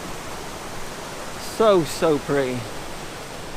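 Waterfall at Lochgoilhead in Scotland, a steady broadband rush of falling water filling the background while a person briefly speaks over it.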